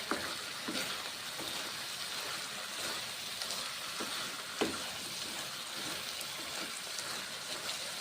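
Drumsticks and eggplant sautéing with spices in a pan: a steady, hissing sizzle with occasional faint clicks and stirring knocks, moderately close and continuous, with no talking.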